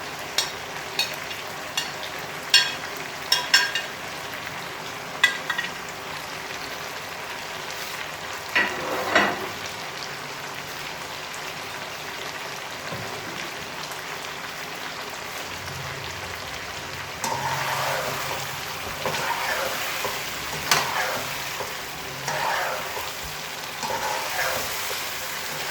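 Two large tomatoes sizzle in a pan of browned onions for Irani chicken, with scraping spoon clicks and stirring bursts over a soft, steady frying crackle.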